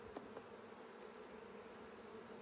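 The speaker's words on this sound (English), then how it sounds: "These bees are calm simply because there's probably a queen in here somewhere." Honeybees at a new beeyard hum in a soft, continuous drone around an open hive, with returning foragers adding faint passing buzzes; no voices.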